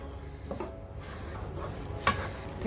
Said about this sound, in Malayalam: ഇനി ഇത് കൈയെടുക്കാതെ ഇളക്കി കുറുക്കിയെടുക്കണം.